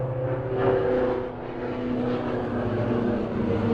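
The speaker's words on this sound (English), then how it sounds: "We are plagued by flying machines." A propeller airplane from the 1956 film The Black Sleep drones steadily overhead, a continuous engine hum that swells slightly and stays fairly loud throughout, with faint music-like tones beneath.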